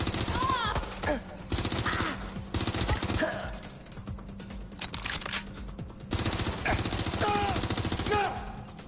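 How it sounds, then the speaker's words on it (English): Rapid automatic gunfire in Watch Dogs: Legion rattles out in repeated loud bursts, with short lulls between the volleys and a dense, chaotic firefight close by. "Target is firing."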